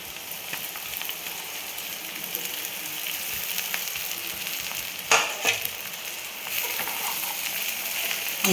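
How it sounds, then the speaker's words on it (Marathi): Soaked poha with turmeric is added to a hot pan and stirred for Maharashtrian kanda poha, a steady close sizzle broken by a few louder scraping stirs midway. "आणि आता टाकू आपण हळद हळद पाव लगेच आपण हे भिजवलेले पोहे टाकून घेणार आहे"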